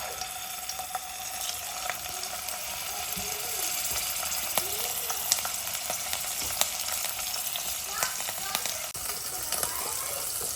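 Dried fish frying in a pan in a Kerala village kitchen, a continuous soft sizzle with scattered crackles and pops throughout, fairly quiet and close.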